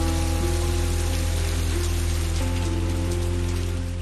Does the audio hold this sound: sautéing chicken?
no